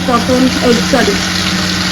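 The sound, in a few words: fish frying in a wok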